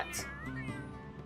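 Fluffy dark ginger cat in The Sims 3 giving a short meow, a quick bright call followed by a softer drawn-out tonal tail, fairly close and clear.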